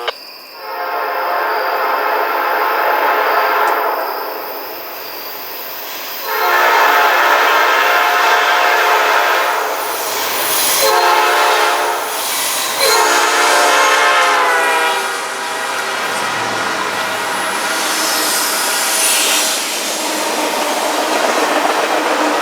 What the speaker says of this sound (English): this train was cool with the P5 and the angle was awesome